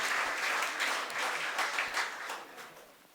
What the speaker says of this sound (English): Wow, a very big applause for this event.